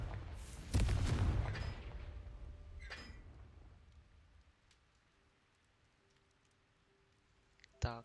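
A spell explosion from the Hogwarts Legacy game goes off as one loud, broad burst. A crackling, ringing tail follows it and fades over several seconds into quiet ambience, and a short sharp hit lands near the end.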